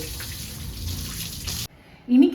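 Water pours and splashes steadily over a dog being bathed for a moment, then cuts off, and a voice briefly speaks near the end.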